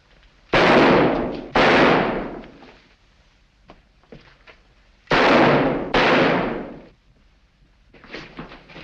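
Gunshots from the 1943 film Sherlock Holmes Faces Death: two pairs of loud, close blasts, each with a long reverberant decay, separated by a few seconds of quieter rustling.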